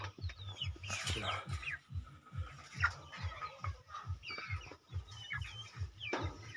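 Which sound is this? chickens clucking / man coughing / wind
chickens clucking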